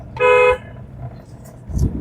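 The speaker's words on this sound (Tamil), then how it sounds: "ஸ்பீட் பேலன்ஸ்டாக ஒரு முறை ஹாரன் அடிச்சுடுங்க" A single short car horn honk, loud and close, followed by faint engine and road noise.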